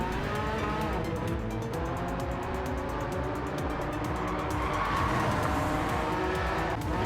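Porsche race car in Gran Turismo 7, its engine droning steadily with tire skidding and squeal layered on top, loud and continuous throughout.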